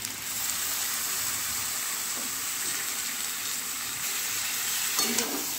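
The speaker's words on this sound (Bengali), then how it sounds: "বাঁধাকপিটা দিয়ে আবারও ভালোভাবে কষাতে হবে এটাকে।" Cabbage is stir-fried with a hilsa fish head in a pan, giving a constant loud sizzle with soft stirring scrapes and a sharper clatter of the spoon near the end, with no voices.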